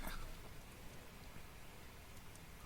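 Rain falls as a steady ambient effect during a tabletop role-playing game session, a faint even wash of patter with a slightly louder onset and no voices over it.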